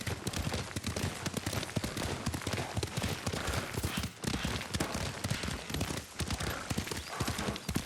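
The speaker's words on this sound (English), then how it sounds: "Lord Sakai taught me to ride a horse." Horse hooves clip-clop steadily in a video game as a rider travels at a brisk pace, with rapid rhythmic thuds layered over dense, busy background sound throughout.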